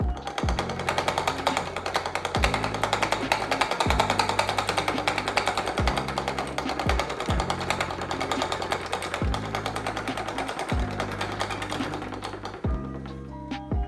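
A homemade free piston Stirling engine runs hard, giving a loud, steady rapid knocking pulse with regular heavier thumps, continuous throughout and dropping off near the end.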